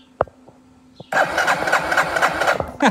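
A few soft clicks, then a Yamaha XT225 Serow motorcycle engine with no spark cranks loudly with a fast, rhythmic chugging that runs steadily for about two seconds.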